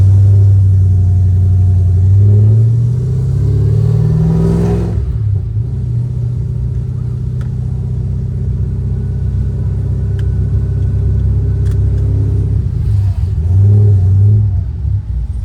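A deep, throaty cammed LS2 V8 with an LSA supercharger in a Pontiac GTO rumbles loudly and continuously, revving up and easing off as the car drives along, with a low burbling idle between pulls.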